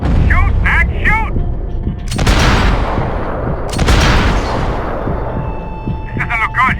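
Gunfire in Max Payne 3 comes as two heavy broadband bursts with rumbling tails. Shouted, excited voices are heard before and after the shots.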